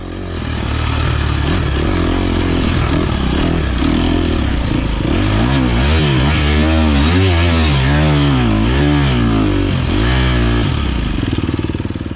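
Dirt bike in a trail race, engine revving and rising and falling in pitch as it rides across wooden bridges over mud, loud and close throughout with some clatter.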